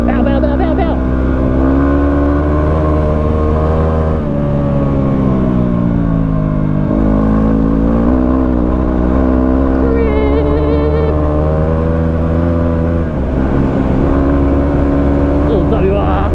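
Yamaha WR250R motorcycle engine held at full throttle on a twisty road, a loud continuous high-revving whine whose pitch climbs and drops with gear changes, close up throughout with wind noise.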